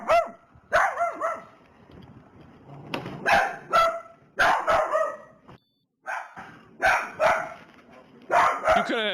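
A dog barks repeatedly inside a house during a police search, sharp barks in bursts with short pauses, fairly close.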